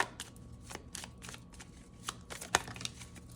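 Tarot cards from a very large deck shuffled and handled close by, a run of crisp papery riffles and flicks with a sharper snap near the end, heard alone without any talking.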